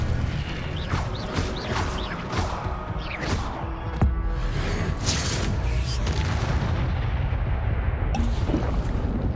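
An Incendio fire spell bursts in Hogwarts Legacy, a fiery blast with a booming thump buried in dense, continuous game noise.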